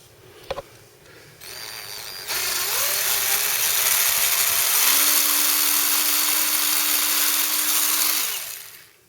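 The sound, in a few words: drilling holes with a power drill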